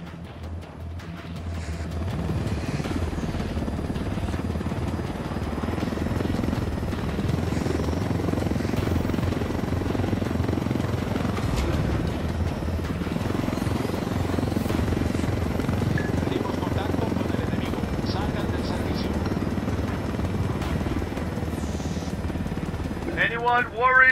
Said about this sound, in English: Let's take these choppers out.